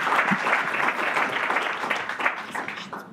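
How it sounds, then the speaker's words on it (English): An audience at an animal health and welfare conference gives panel speakers a sustained round of applause: dense, even clapping from a sizable crowd that fades slightly toward the end. "A big round of applause for our speakers."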